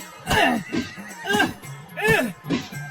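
A cartoon horse neighs loudly in a series of shrill, wavering whinnies that rise and fall in close succession, sounding like a voice performing the neigh.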